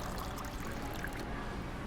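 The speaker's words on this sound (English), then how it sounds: "Grab your Kleenex, and then you can dispense your water." Water runs from a purifier faucet into a beverage container, a steady close pour and trickle lasting the whole moment with no voices.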